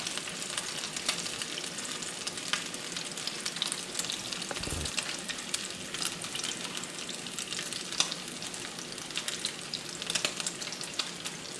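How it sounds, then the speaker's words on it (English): Guanciale frying in a pan and rendering its fat for bucatini alla carbonara, a steady close sizzle with constant fine crackles and pops, alone with no talk. "Our guanciale is releasing some of that fat and it looks really good."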